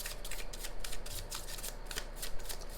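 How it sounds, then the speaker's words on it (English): Tarot cards being shuffled by hand, a close, steady riffling and papery flutter in repeated bursts, alone with no talk. "let's do one more shuffle"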